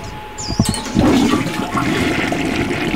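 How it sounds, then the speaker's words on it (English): A toilet flushes a rat down, with a loud, close rush and gurgle of water swirling and draining steadily after a brief click of the handle. "flushing this rat down the toilet"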